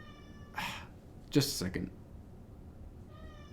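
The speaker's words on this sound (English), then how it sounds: "I guess the cat just wanted some attention" A house cat meows for attention indoors: one short meow near the start and another at the end, with a brief spoken phrase between them.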